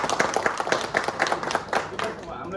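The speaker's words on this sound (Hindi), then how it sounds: "सबसे पहले तो हमारा पीएस सर के लिए एक जोरदार ताली होना चाहिए।" Audience clapping for the speaker at a leadership talk, a dense run of many hands beating fast and unevenly, loud and close throughout with voices mixed in.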